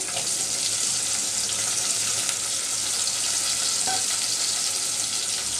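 Masoor lentils tipped into lightly fried shrimp in hot oil, giving a loud, continuous bright sizzle with crackling spits and a brief stirring clatter, no voices.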